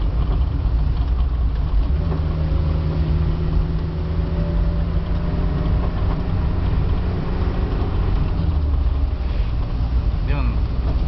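A vehicle on a road trip through Sorsogon, driving fast behind another car; a loud, constant engine and road roar fills the scene with a deep low-end rumble, and the wind and tire noise hold steady throughout.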